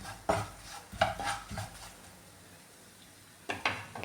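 Chili powder and garam masala being stirred while heating in a pan for chicken pickle, heard as soft, close scraping strokes in short bursts with a quiet pause between them.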